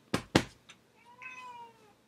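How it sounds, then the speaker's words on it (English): A house cat gives a drawn-out meow after two sharp knock-like thumps, close and fairly clear in a quiet indoor room. "cats."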